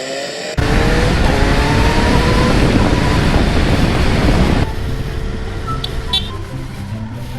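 A superbike ridden on an open road during lockdown, its loud engine roaring steadily with heavy wind rush, then easing to a lower, quieter drone for the final seconds.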